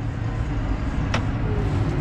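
A New Holland T7.230 Auto Command tractor with a continuously variable transmission hums with a steady low engine drone from the cab, one short sharp knock or clunk breaking in midway.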